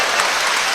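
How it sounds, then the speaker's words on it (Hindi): Audience applause at a Hindi comedy show: a brief, steady burst of many hands clapping together at an even loudness from start to finish, with no voices over it. "इधर से तालियां कम बज रही हैं, इधर का मामला ठीक है।"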